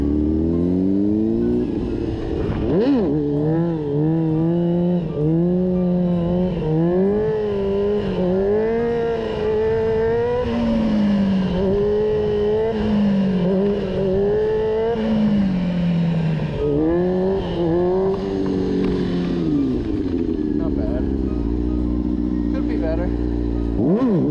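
A freshly built motorcycle rides in second gear, its loud, close engine droning steadily and rising and falling in pitch as the throttle changes, with a brief dip in the middle and a rougher low rumble near the end.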